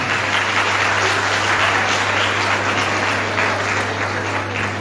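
Steady, dense applause from an audience at a Women's Day program at a women's college in Tosham, continuous and fairly distant with a low electrical hum beneath.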